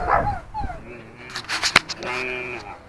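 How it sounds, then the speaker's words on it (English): A little dog gives a few quick, high yaps close by, mixed with whiny, meow-like squeals, as a voice speaks around them. "say hello to the little doggy"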